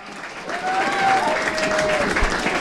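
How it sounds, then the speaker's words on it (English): Football fans at a Dulwich Hamlet league match applaud a departing player off the field, a sustained burst of clapping from a crowd at moderate distance, with a faint whistle heard partway through. "The fans rise as one to applaud him off the field."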